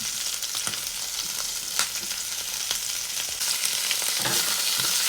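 Chorizo and bell pepper sizzle steadily in a pan, a close, continuous frying hiss broken by occasional clicks and scrapes as the pieces are moved.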